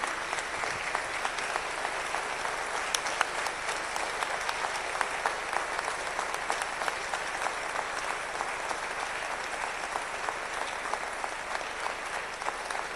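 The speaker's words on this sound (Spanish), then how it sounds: "Los aplausos son para nuestros héroes." Steady audience applause fills a ceremony honoring a veteran soldier as an illustrious citizen, a dense even patter of many hands clapping throughout with no voices over it.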